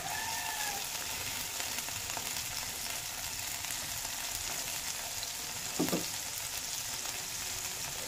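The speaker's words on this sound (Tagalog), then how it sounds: "I-brown lang natin konti itong bawang." Garlic browning in oil in a frying pan for a pork giniling and hotdog dish, a steady close sizzle with a brief stir or clink near the end, no talk.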